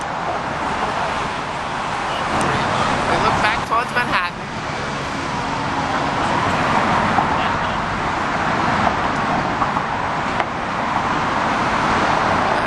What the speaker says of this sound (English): And below us is the traffic going into Manhattan.